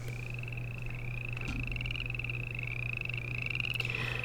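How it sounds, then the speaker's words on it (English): Frogs croak in a swamp, a continuous chorus of rising trilled calls repeating every second or so at moderate distance over a steady low hum. "are the frog noises."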